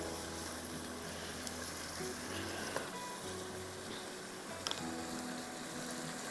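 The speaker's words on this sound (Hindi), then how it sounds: "बहुत अच्छी तरह से इसको आपको फ्राई करना है कि चिकन गल जाए" Chicken frying in a masala mixture for a dam chicken sizzler, a steady broadband sizzle with faint clicks, continuous and moderately quiet, with no one speaking.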